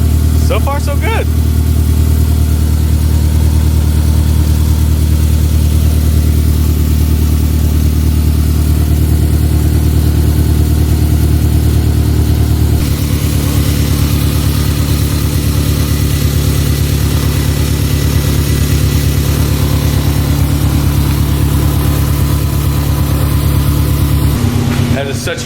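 A car engine idling steadily after a new idle air control valve was fitted, a loud, close, even rumble that holds constant for the whole stretch with a slight change partway through.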